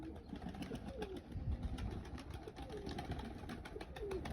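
Domestic pigeons in Mykolaiv, some ringed and some without rings, coo in soft, low, repeated throaty calls close by, overlapping with general ambient rustling and faint background noise.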